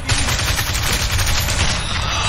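A dense burst of gunfire fills a Mafia 2 video game shootout, with rapid overlapping shots that sound loud and continuous throughout.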